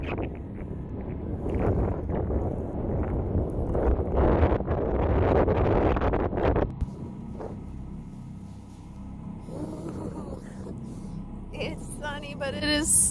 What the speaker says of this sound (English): It is so cold and windy